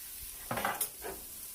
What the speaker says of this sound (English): I'm going to go ahead and add my chopped garlic